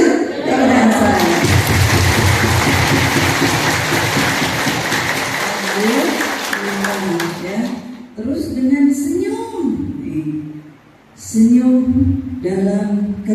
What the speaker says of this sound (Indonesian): mari kita banyakin tepuk tangan